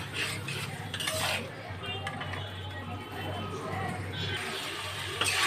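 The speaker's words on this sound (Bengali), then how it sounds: "সমস্ত মশলা দিয়ে একটু ভালো করে নেড়ে নেবো। নেড়ে নেবো বলতে ভালো করে কষিয়ে নেবো।" Ground spices being stirred and fried in a pan for a Bengali fish curry with potato and eggplant: continuous utensil scraping and clinking against the pan over a low sizzle, under steady talking.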